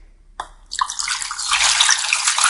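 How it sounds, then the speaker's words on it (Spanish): Hot water is poured into a basin for a foot soak, starting with a few splashes and building into a steady, close rushing stream. "Después vamos a poner aproximadamente medio litro o un poquito más de agua"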